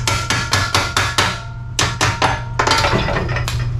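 Steel hammer strikes on stuck bolts of a 1980 Corvette in a garage, a rapid run of sharp metallic blows, a pause, then another burst of hits, close and loud over a low hum.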